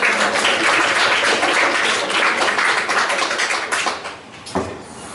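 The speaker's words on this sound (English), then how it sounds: "Let's pause and have a round of applause" A room of listeners at a soy sauce optics physics tournament session gives a round of applause. Loud, dense clapping holds steady, then thins near the end with a few distinct claps.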